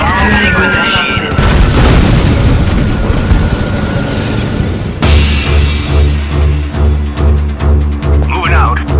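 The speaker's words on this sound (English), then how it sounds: "Bomb sequence initiated." Bomb blast in the strategy game Act of War: Direct Action, a heavy booming roar that swells and rumbles before giving way to a pulsing series of deep repeated thuds, loud and close with a short game voice line.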